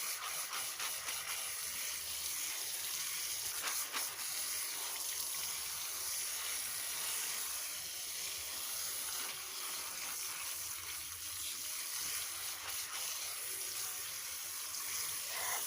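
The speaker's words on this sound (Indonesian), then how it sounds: "aku cukup mengguyur dengan air ya teman-teman, menyemburnya dengan air sampai bersih ya teman-teman" Soybeans for tempe are rinsed under a strong stream of running water, a continuous bright hiss and splash that holds steady and fairly faint throughout.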